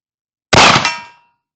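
A single bullet from an 1862 Dance Brothers .44 cap and ball revolver strikes a steel target, giving one sharp, bright metallic clang that rings out briefly and fades within about half a second.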